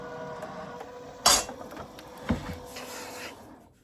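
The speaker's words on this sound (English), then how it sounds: "So I'm just going to put it through, and it's only going to cut that little piece" AccuQuilt die cutter cutting a small quilted fabric piece for a mini oven mitt, a steady mechanical whir from the rollers broken by two sharp clunks, close by with no talking.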